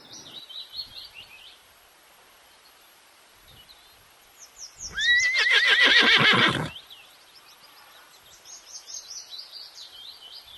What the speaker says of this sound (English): H for horse.